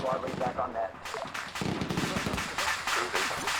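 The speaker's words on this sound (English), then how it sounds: "Oh, the other tank blew up." A tank blowing up in Arma 3 amid ongoing battle, bursts of gunfire and sharp blasts with a heavy booming explosion partway through, loud and close, with voices talking over it.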